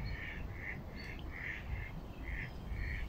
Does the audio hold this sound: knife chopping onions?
no